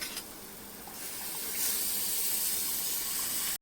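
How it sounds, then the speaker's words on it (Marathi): Chana dal cooking water poured into fried coconut masala makes a continuous hissing, bubbling rush that swells partway through before cutting off abruptly, with no talk. "आता इथे माझ्याकडे चण्याच्या डाळीचं पाणी आहे म्हणजे हा जो कट आहे मी आधी पोळ्या केल्या होत्या तेच हे पाणी आहे ते मी याच्यामध्ये टाकते"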